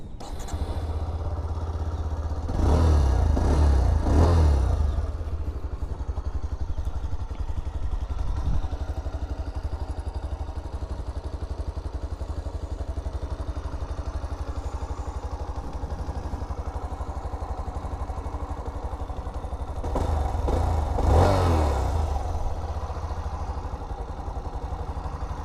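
A 2025 Bajaj Platina 110 motorcycle engine fires up and settles into a steady, close idle with a low throbbing putter, and a brief revving surge returns near the end.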